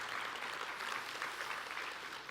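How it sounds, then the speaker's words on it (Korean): Audience applause at a business talk concert, a steady, fairly soft wash of clapping heard throughout without a break. "다시 한번 박수 부탁드리겠습니다"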